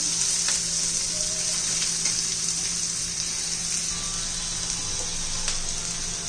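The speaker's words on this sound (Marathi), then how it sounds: "कांदा चांगला ट्रान्सपरंट होईपर्यंत आपण परतून घेणार आहोत" Chopped onion sautés in a pan with a steady, even sizzle that lasts throughout, close and continuous, with faint clicks of stirring and no speech.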